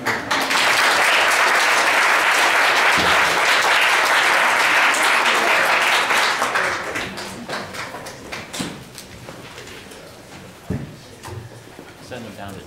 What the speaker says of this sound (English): You just give yourselves a round of applause.